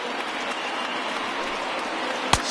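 Crowd noise in the baseball video game MLB 20, a steady broad roar of cheering and applause rising as fans stand, with one sharp thump near the end.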